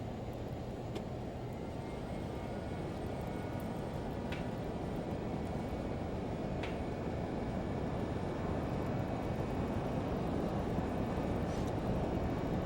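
A LearJet's jet engines roar steadily while taxiing to the runway in a flight simulator, a loud, continuous broadband rumble with faint intermittent clicks and no talk.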